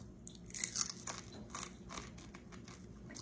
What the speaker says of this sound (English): That little fin right there, you just eat it off. Like that. Real crunchy.